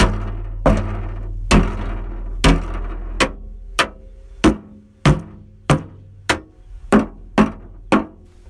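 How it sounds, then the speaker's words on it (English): Sharp, hollow knocks from a screwdriver's rubber handle striking the boot panel of a Mercedes-Benz W210, about a dozen evenly spaced taps with a drum-like resonant ring after each, close and alone. "I will hit this with the rubber handle of this screwdriver."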